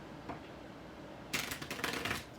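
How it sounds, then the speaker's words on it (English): Tarot cards being shuffled at a late-night reading, a soft riffle near the start followed by a denser burst of rapid papery flutters and snaps about a second long, close and fairly quiet. "I don't know why I shuffled the cards, but I feel they need another shuffle."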